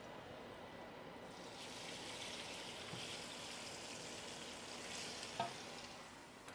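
Tofu sizzles steadily in a pan with garlic, a soft, continuous hiss of frying with faint stirring and one small clack, fairly quiet and without talk.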